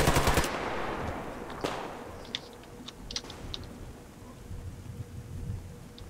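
Gunfire in the shooter game Survarium opens with a loud, rapid burst, followed by scattered fainter shots and clicks over a low background rumble.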